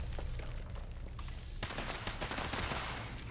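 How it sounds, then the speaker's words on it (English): Gunfire and explosive blasts from enemies firing missile launchers in Fallout 76 crackle in a dense burst, with a sharp loud onset partway through followed by rapid repeated bangs. "And they will shoot their missile launchers like point blank."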